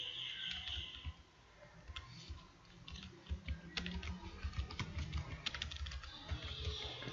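Rapid, uneven keyboard clicks from someone typing code on a computer keyboard, close and fairly quiet, with brief pauses between bursts and no talking.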